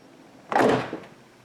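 BMW E32/E34 car door swinging shut, a single solid thunk with a short rattling tail, close by and alone.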